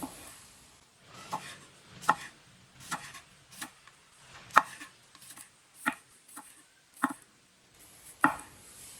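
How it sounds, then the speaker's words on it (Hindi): Cucumbers are cut into small pieces with a knife on a board, producing sharp, distinct chops spaced irregularly about one per second, close and clear over a quiet room. "दोनों खीरों को इसी तरह काट लेना।"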